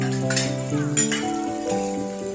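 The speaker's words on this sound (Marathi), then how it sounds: "सगळ्या भाज्या, सगळे व्हेजिटेबल तेलामध्ये चांगल्या परतून घेऊ" Potatoes, cauliflower and beans fry in oil in a home kitchen, a continuous sizzle with light clinks of a utensil against the pan, over a steady tonal background hum.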